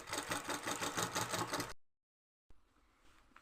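Sewing machine running steadily while top stitching a uniform, a dense rapid mechanical chatter for nearly two seconds, then cutting off into silence before a faint motor hum resumes.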